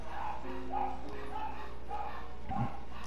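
A dog in Genshin Impact barks repeatedly in a steady rhythm, about five evenly spaced woofs at moderate volume over a low background hum.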